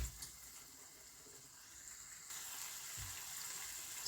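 Food frying in a pan before ground steak haché goes in for a potato porridge, a soft continuous sizzle and hiss that brightens partway through, quiet and without talk.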